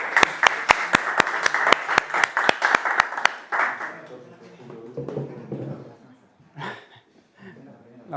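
A few seconds of sparse, distinct hand claps from a small audience at a talk, spaced sharply and then stopping, followed by quiet murmuring, breathing and a brief chuckle.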